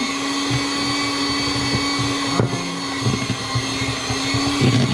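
An electric stand mixer whirs steadily as it beats choux pastry dough, a constant motor hum with a high tonal whine and occasional bumps and knocks of the dough against the bowl.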